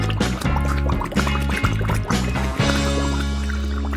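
Water splashes and gurgles as it fills a pot for boiling potatoes, steady and close with rhythmic sloshing pulses throughout.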